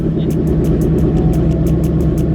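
Ford Boss 302 engine running on E85 with LU47 injectors, a steady loud rumbling drone that holds at a constant level for the whole moment, without distinct rev swells, with faint talk underneath.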